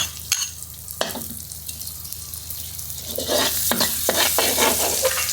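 Food sizzles steadily in hot oil in a wok as crispy bonito fish, garlic and celery are stir-fried, while a utensil scrapes and clanks against the pan, the frying growing louder toward the end.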